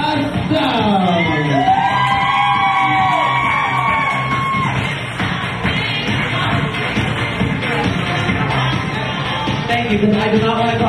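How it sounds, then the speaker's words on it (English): Cabaret audience at Embers Cabaret cheering, yelling and whooping loudly and continuously throughout, a dense crowd roar with shouts rising above it. "Give a big round of applause to Miss Vivica"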